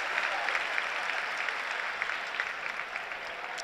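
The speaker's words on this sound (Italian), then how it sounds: "Un applauso anche da parte di Piazza Grande." Steady applause from a large crowd in a town square at the Giostra del Saracino jousting festival, dense and continuous clapping filling the whole stretch with no talking.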